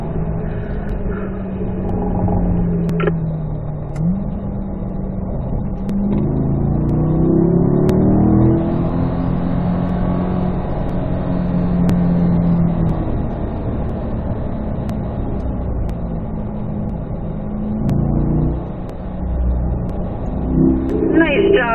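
A Corvette accelerates hard down a race track straightaway at a performance driving school, its engine rising in a steady droning pitch, with an instructor talking over the sustained engine note throughout.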